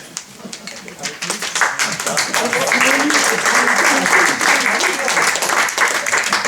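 A theatre audience breaks into loud, sustained applause that swells and holds steady throughout, with some voices mixed into the dense clapping.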